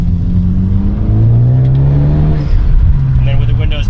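Ford Focus ST with a GReddy catback exhaust revving, a smooth, mild engine note rising and falling in pitch across several throttle blips, heard up close while someone talks over it.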